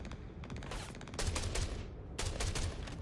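Rapid ship-mounted gunfire in the space game Star Citizen, with bursts of fast repeated shots rattling in several volleys over a low rumble, moderately quiet and without speech.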